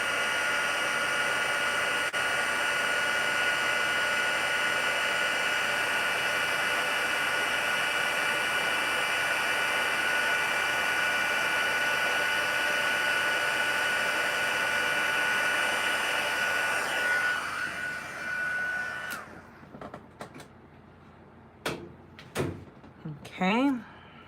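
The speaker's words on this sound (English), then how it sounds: "Now I'm going to grab my heat tool. We're going to heat that powder up and let that set." Heat tool blowing hot air onto embossing powder, a loud steady whirring hiss held close for most of the stretch, then cutting off and giving way to a few clicks and handling noises.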